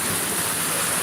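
Heavy rain pouring steadily during a motorcycle ride toward Sekumpul, Martapura, near Banjarmasin, a dense unbroken hiss filling the whole moment with no speech.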